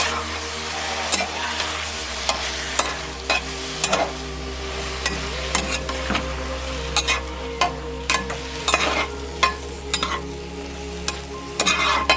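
Leafy greens sizzle steadily in a hot pan while a utensil scrapes and clacks through them in irregular stirs over a constant low hum, with no talking.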